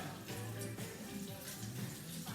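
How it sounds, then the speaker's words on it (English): Steady running tap water splashing over a spatula as it is rinsed in a kitchen sink while baking chocolate cupcakes, a continuous close rush of water with no voices. "I'm still gonna need my spatula. So we're gonna rinse that off."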